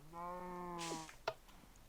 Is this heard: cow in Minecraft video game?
yes